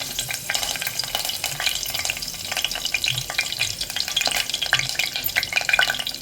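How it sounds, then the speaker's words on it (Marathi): Curry leaves hit hot oil as the tempering for a fresh cashew masala, crackling and spitting in a dense, continuous sizzle with faint stirring throughout. "पहिलं तर कढीपत्ता मी घालते याच्यामध्ये"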